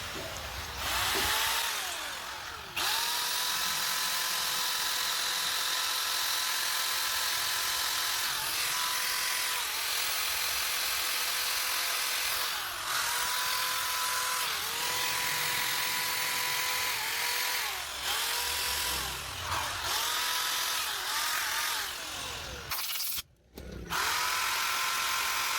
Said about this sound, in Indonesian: untuk pembersihan dengan menggunakan bor ini sudah selesai